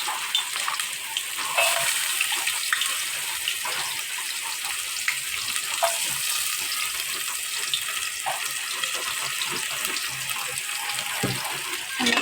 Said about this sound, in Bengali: যেহেতু প্রচণ্ড বৃষ্টি